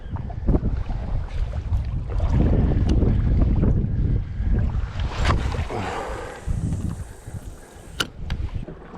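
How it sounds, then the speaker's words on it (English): Coastal wind buffeting the microphone while lure fishing for bass, a loud, gusty low roar that eases off toward the end, with a few faint clicks and no speech. "That wind is driving from behind."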